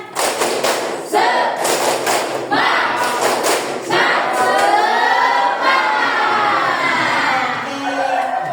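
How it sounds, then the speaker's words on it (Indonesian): A class of students doing a rhythmic spirit clap, with sharp group claps in quick patterned bursts, then a crowd of children shouting and cheering loudly together. "Tepuk semangat."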